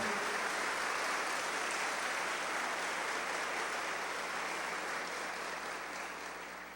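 Congregation in a church applauding a Catholic monsignor's sermon, a dense, steady wash of clapping from many hands that stays loud and even throughout, tapering slightly at the end.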